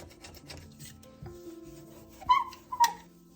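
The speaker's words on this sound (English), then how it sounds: "you can take your scraper and just hold it flat and just scrape it off" A flat-held scraper works a stuck-on spot off a kitchen surface with quiet, rasping scrapes, ending in two short, louder scraping strokes, heard up close.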